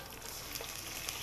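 Garlic sautéing in hot oil in a pan gives a faint, brief, continuous crackling sizzle with small pops.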